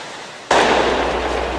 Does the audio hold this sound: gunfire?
yes